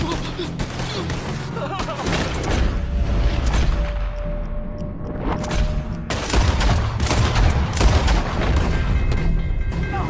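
Gunfight in Red Dead Redemption 2: dense, loud volleys of pistol and rifle shots and booming blasts fill the whole stretch, with a brief lull partway through.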